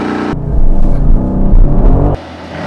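A Mercedes-AMG GLC 63 S launching from standstill in a race against a GLE 53, heard from inside as a sudden loud engine roar building under hard acceleration for about two seconds, then dropping away.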